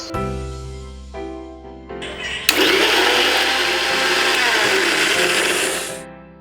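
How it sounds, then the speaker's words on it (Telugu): A mixer grinder whirs loudly and steadily as neem leaves and a little water are blended into a paste, starting after a few short motor bursts and running for several seconds before stopping. "ఇప్పుడు వీటిని మిక్సీలో వేసి పేస్ట్లా తయారు చేసుకుందాం"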